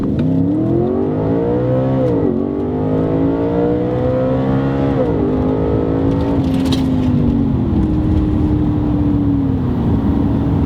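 An Audi B8 RS5 with a 4.2L V8 and JHM 2.75-inch valved cat-back exhaust and X-pipe makes a full-throttle pull, loud and continuous, rising in pitch through the gears with brief dips at each shift.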